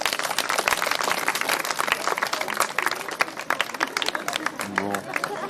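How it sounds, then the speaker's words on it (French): An audience claps for a young performer after a chair-balancing and contortion act, lively scattered clapping that stays fairly loud before a voice briefly cuts in near the end. "Applaudissez Lucille."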